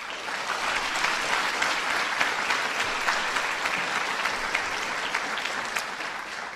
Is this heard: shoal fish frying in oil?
no